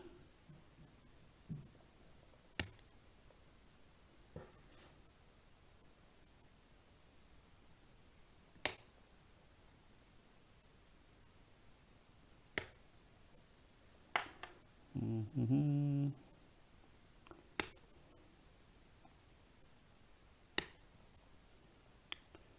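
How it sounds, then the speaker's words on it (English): Small toenail scissors make sharp, isolated snips through plastic RC model kit parts, spaced several seconds apart in a quiet room, with a brief buzzing noise partway through. "Let's get my trusty toenail scissors."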